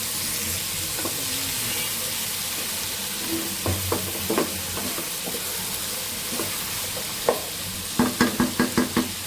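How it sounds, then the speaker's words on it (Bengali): Onion, green chilli, garlic and vegetables fry in a pan, a steady sizzle broken by scattered utensil knocks and a quick run of clacking taps near the end. "এটা ভেজে নিচ্ছি"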